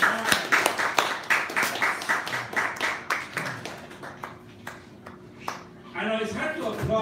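Scattered, sharp handclaps from a small audience at a poetry reading in a bar, quick and close at first, thinning out after a few seconds before a voice speaks.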